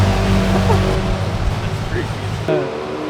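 A stock Mercedes G-Wagon revs and its engine rumbles close by, with short crackles mixed into the noisy drone while people talk over it.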